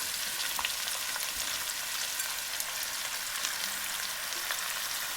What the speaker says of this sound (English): In goes the meat. Just going to let it sear.